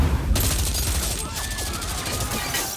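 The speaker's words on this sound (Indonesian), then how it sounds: "Terjadi aksi baku tembak di antara mereka" A film gunfight between robbers: dense, continuous rapid gunfire with echoing bursts and whizzing ricochets, loud and close throughout, with a voice talking over it.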